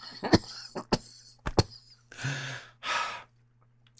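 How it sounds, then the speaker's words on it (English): A few sharp coughs after smoking cannabis, followed by two long, breathy exhales, close to the listener, with quiet gaps between. "A little cough sensation."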